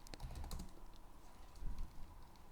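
Rapid clicking keystrokes on a computer keyboard while C# code is typed, steady close-up tapping with a few heavier key presses and no talking.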